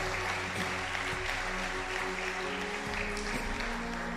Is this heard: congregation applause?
yes